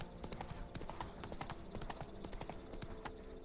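Roach the horse trotting in The Witcher 3, a quick steady clip-clop of hooves on hard ground, close and continuous with no voices over it.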